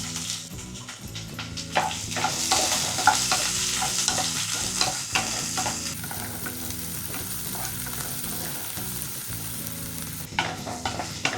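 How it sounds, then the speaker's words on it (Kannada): Finely chopped onion fries for masala uppittu, a dense, continuous sizzle in the pan close by, punctuated by repeated spoon scrapes and stirring clatter throughout. "ಈರುಳ್ಳಿನೂ ಫ್ರೈ ಆಗಬೇಕು ಚೆನ್ನಾಗಿ."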